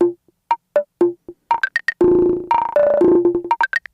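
Conga loop pitched down an octave in Ableton's Drum Sampler, a crisp sequence of tuned hand-drum hits. Sparse single strikes give way to a denser, ringing burst midway, then quick high taps, all dry and close with no voices.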